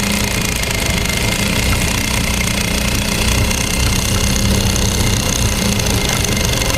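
A Juki DDL 5550 industrial sewing machine, complete with table and motor, running at close range with a fast, steady mechanical chatter and hum that stays constant throughout.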